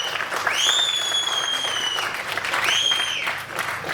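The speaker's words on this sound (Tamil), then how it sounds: "அங்கே கனிஷ்கா அவனுடைய நண்பர்கள் தனியாக அவனுக்கு வந்து ஹோல்டர் பண்ணி கைத்தட்டிக்கிட்டே இருக்காங்க" At a Tamil film audio launch event, an audience claps steadily and fairly loudly throughout. Two long, high whistling tones ring out above the applause.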